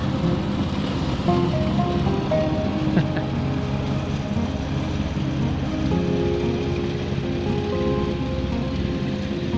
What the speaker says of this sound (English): It's a good old mower. Cutting good right now, that's for sure.